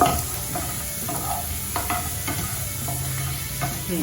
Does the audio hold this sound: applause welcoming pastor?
no